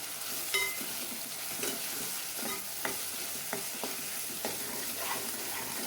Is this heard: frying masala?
yes